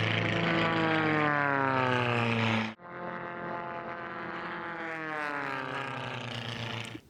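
Racing aircraft from the Formula One and biplane classes fly past at an air race in Roswell, a loud continuous propeller-engine drone with a steady pitch, briefly cut near the middle, then resuming as another close, strong pass with shifting tone.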